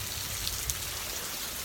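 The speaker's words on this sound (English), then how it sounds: "to sit and listen to the rain" Rain falls outside in a steady, even hiss with scattered droplet taps, continuous and fairly close, with no voices.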